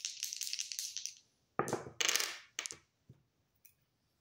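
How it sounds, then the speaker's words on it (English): Dice rolled onto a table during a tarot card reading: several short rattling, clattering bursts that tumble and settle, then a couple of faint taps near the end, with no voice. "rolling the dice to see what I need to shuffle the deck to"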